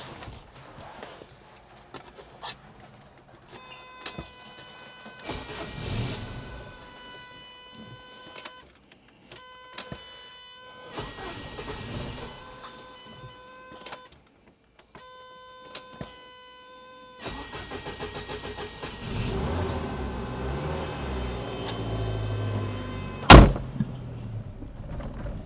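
Old Saab car engine cranking repeatedly in bursts with pauses between attempts, then catching and running rough with revs, close and fairly loud.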